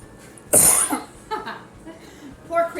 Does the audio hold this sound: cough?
yes